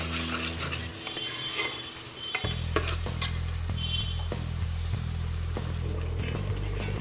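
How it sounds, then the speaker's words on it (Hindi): Tomato paste and spices frying in oil in a pan for rajma masala, a steady sizzle with repeated scraping and clinking as a spoon stirs against the metal, loud and close with no talking. "ये जो टमाटर का पेस्ट हमने तैयार किया है इसको ऐड कर लेंगे और इनको मसालों के साथ अच्छे से भून लेते हैं"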